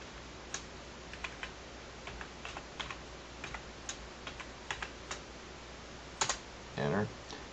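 A password for a domain controller is typed on a computer keyboard: quiet, irregular clicking keystrokes in short bursts, ending with a firmer key press and a brief rustle.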